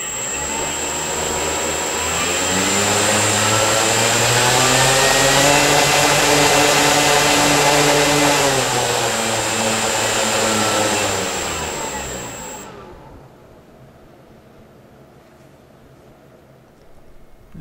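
An electric motor on a dyno spins an FMS three-blade prop with a domed spinner, as used on P-47 and Corsair models: a loud rising whine and airy roar holds steady, then cuts off abruptly and winds down.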